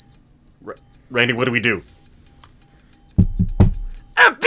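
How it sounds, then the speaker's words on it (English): Tiny, high-pitched tracking beeps repeating at a quick, steady rhythm, clear and close, with people talking over them. "Why do I hear a tiny little beep?"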